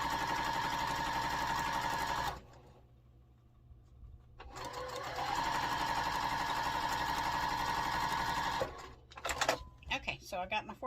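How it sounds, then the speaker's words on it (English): A sewing machine stitches a quilt four-patch block in two long, fast, steady buzzing runs separated by a brief pause, followed by a few short clattering bursts near the end. "So I got my 4 patch all sewn up."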